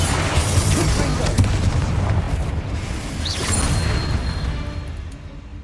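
Bombarda and Confringo spell blasts in Hogwarts Legacy erupt as rumbling booms and crashing explosions, a continuous low roar with a voice calling out briefly over it.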